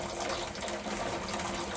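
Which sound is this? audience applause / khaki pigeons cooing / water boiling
water boiling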